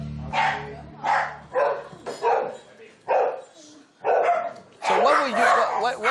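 Several little dogs yap and bark in short bursts at a busy Hong Kong dog café, the barks coming in quick, separate clusters close by, with a person's voice among them.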